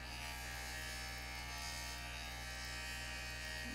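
A JoolTool rotary polisher grinding a river rock produces a steady, faint electric motor buzz with a constant hum, unbroken for the whole stretch and with no voice over it.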